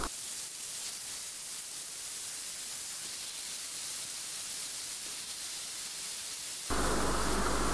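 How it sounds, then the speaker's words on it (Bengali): Koi fish sizzling in hot mustard oil in a pot, a steady broad hiss and crackle of frying that keeps going, then swells louder near the end as more fish go into the oil. "একে একে সবগুলো কই মাছ দিয়ে দিচ্ছি।"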